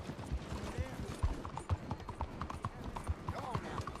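Horse hooves clip-clopping at a trot in the Red Dead Redemption 2 video game, a steady close rhythmic clatter of hoofbeats with a rider's voice talking over it.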